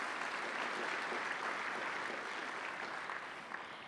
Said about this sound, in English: can we have another round of applause for Jennifer?